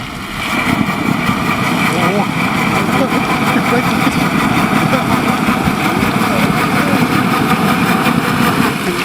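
An electric bike converted into an aqua-bike runs its motor on the water in a steady, buzzing hum that stays loud and even throughout, with people talking over it.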